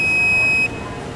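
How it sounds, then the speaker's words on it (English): An electronic buzzer on a controller under test sounds as a loud, steady high-pitched tone for about half a second and then cuts off abruptly, leaving background hum. "And the buzzer"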